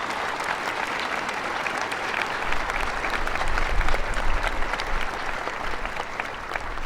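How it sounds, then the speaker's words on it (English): Outdoor audience applause at a Wreaths Across America ceremony at Houston National Cemetery, a steady wash of many hands clapping that swells slightly midway and holds without speech. "So please give a big round of applause for those people."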